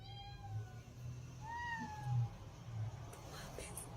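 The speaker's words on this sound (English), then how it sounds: "Sounds like a cat." A cat meows indoors at night in a few drawn-out, rising and falling cries over a low steady hum, fairly close but not loud.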